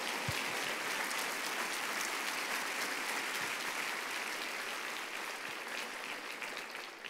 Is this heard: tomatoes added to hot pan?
no